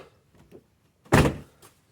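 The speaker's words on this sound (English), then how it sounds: "Doors are shutting nice now" Car door on a Chevrolet S10 Blazer, just adjusted for sagging, shuts with a single solid thunk up close, followed by a faint short rattle.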